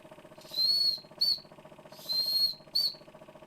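A steam engine runs with a steady rhythmic chugging, broken by two pairs of shrill whistle blasts, one long and one short each time.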